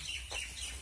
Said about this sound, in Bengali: এই এই যে মুরগি